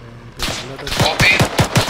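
Automatic gunfire in a multiplayer shooter game, a rapid burst of sharp, loud shots with a steady rhythm, about a dozen cracks in quick succession at close range.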